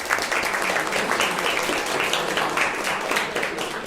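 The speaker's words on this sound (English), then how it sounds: "I'm going to ask you for another round of applause" Audience applause at a Wagner Society of New York meeting, for a presentation by Mark: steady, dense clapping from a room full of people, holding at an even level for the whole stretch with no voices over it.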